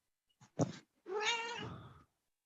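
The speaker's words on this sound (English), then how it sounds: "Sounds like a cat wailing in the background." A cat lets out a couple of short mews, then a long, drawn-out wailing meow, fairly close and clear with no talking.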